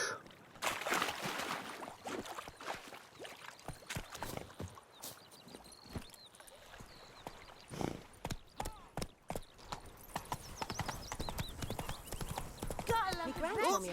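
Hooves of the horse Roach clop along in the video game Witcher 3, a rhythmic walking clip-clop with a whinny near the end, under someone talking and game sounds.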